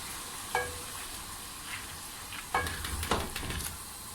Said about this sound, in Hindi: अब हम थोड़ा सा चूल्हा तेज़ कर लेंगे और इसके अंदर अब मैं दाल शामिल करूँगी